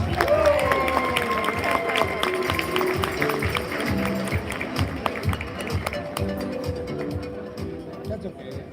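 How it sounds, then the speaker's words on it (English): Wedding reception guests applauding for the bride's father, a busy wash of clapping and cheering mixed with crowd chatter and clinks, starting loud and gradually tapering. "please give John a nice big round of applause"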